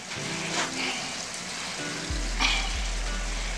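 Steady sizzling of meat sauce with salt and black pepper in a pan, with a faint scrape of stirring and a low hum running underneath.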